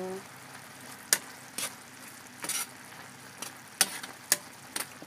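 A spoon stirs a simmering coconut-milk stew of jackfruit and meat with bird's eye chili, giving sharp scraping clacks against the pot at irregular intervals over a soft sizzling bubble, close up and without speech.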